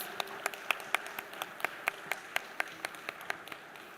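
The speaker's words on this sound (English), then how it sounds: "can we welcome them with a thunderous round of applause?" Sparse applause from an audience at a technology conference, with scattered individual claps that fall in a fairly steady rhythm and sound moderately close, rather than a full thunderous ovation.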